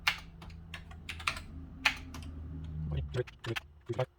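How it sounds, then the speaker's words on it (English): Keys clacking on a Commodore Plus/4 keyboard as numbers are entered, a run of sharp, uneven taps close by, with a low hum and murmured speech underneath toward the end. "So let's type in the following numbers"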